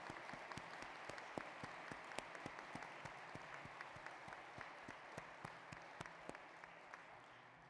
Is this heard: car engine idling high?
no